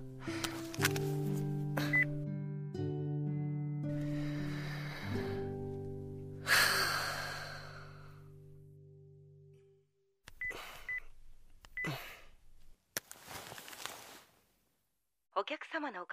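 Telephone number being dialed in a radio voice drama, a run of steady keypad tones and beeps over the first ten seconds, followed by short gaps of breathing and sharp noises.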